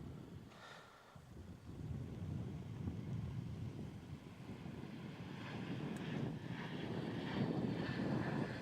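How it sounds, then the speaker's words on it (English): An airliner climbs steeply away after takeoff from runway 16 at Melbourne Airport, bound for New Zealand, its engine roar distant but swelling gradually with some wind buffeting on the microphone. "Nice steep climb there out of runway 16 to head across the ditch to New Zealand."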